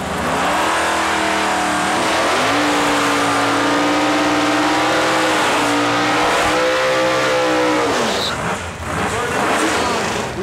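A 1969 ProCharger Ford Mustang and a 1990 Fox Body Mustang at a dragway, loud engines roaring and revving steadily with rising pitch as they launch, continuous and close.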